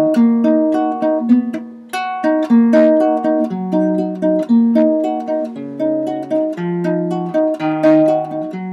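An acoustic guitar plays the bass line of a song, with plucked low notes walking up and down in a steady rhythm under ringing chords, close and clear with no talking.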